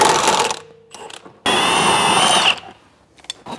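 An impact wrench works on 21 mm nuts on an AMG suspension, giving loud close bursts of whirring and hammering: a short burst, a pause, then a longer sustained run of about a second before trailing off into faint clatter.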